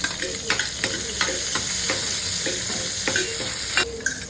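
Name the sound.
onions frying with cardamom and bay leaf in a pan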